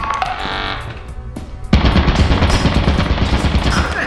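Turrets in the video game Lethal Company open up with a sudden burst of rapid automatic fire that keeps rattling loudly after a quieter stretch of game sounds.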